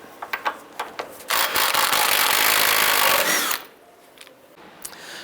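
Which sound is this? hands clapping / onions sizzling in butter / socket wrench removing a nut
socket wrench removing a nut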